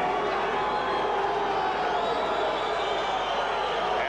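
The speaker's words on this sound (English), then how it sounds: "the Espinoza portion of the crowd booing Paez" A boxing arena crowd at the Jorge Paez versus Louie Espinoza rematch gives off a broad, sustained roar of voices, steady and loud throughout, with indistinct shouts mixed into the din.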